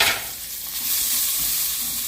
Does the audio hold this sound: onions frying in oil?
yes